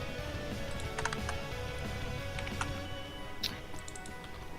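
Soft, steady typing on a computer keyboard, with light scattered keystrokes and clicks over a constant low room hum, fairly faint and without speech.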